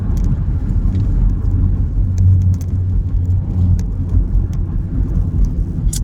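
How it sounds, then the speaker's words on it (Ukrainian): Car traffic in Lviv forms a steady, dense low rumble of engines and tires, close and continuous, with faint clicks and rattles over it and no talking. "тут страшно багато машин"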